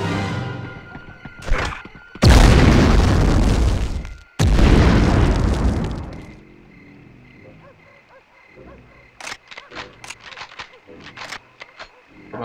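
Grenade explosions in the PS1 game Medal of Honor: two heavy, loud booms in close succession, each with a long rumbling decay, followed by scattered faint sharp clicks and thuds.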